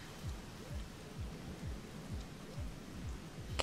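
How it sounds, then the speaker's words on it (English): Rain in the video game Rain World falls as a steady, fairly faint downpour hiss, with soft rhythmic low thumps recurring roughly every half second beneath it and no voices. "It's still raining."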